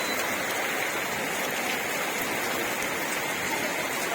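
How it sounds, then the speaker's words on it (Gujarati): Heavy rain pounds down on a house in a constant, loud, close roar of water with no pauses and no talking. "એટલો બધો વરસાદ જોરથી વરસાદ પડી રહ્યો છે."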